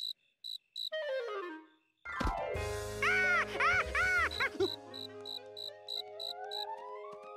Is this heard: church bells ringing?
no